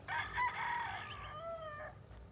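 A rooster crows once, a long drawn-out cock-a-doodle-doo close by, with faint background noise.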